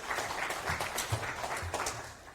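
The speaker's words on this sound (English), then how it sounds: "Give a very warm applause." Audience applause for a conference talk on Gnuk 2.2 and Gnuk NEXT: steady, dense clapping from a crowd that holds for a couple of seconds, fairly even and moderately loud throughout.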